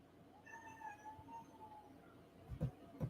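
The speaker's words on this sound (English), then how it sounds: "Cat has joined us, if you might hear." A cat gives a long, drawn-out, wavering meow nearby at low volume, followed by a couple of soft thumps near the end.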